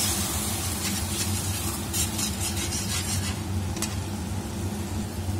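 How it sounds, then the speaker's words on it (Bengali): Tomato puree sizzles in hot oil for an egg omelette curry, stirred with steady scraping; a continuous, close frying hiss with occasional utensil scrapes and no talking. "এবারে আমি টমেটো পিউরিটা দিয়ে দিচ্ছি, দিয়ে আবার একটু ভালোভাবে কষিয়ে দিচ্ছি"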